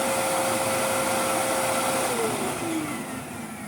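A restored Karcher VC3600 vacuum cleaner runs with a steady loud whine and rushing airflow, its pitch sliding slightly lower and the level easing toward the end, with no voices.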